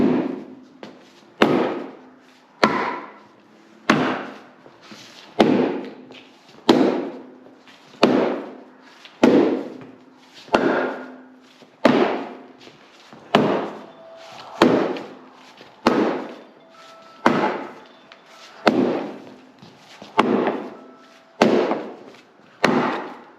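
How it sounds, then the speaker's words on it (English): Firewood split by hand with a homemade DIY splitter: about twenty sharp, loud cracks of wood splitting, each followed by a short clatter. They come at an even rhythm of roughly one per second, close up, with no talk. "let's get into some hand splitting and see how this works"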